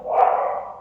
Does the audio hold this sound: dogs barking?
yes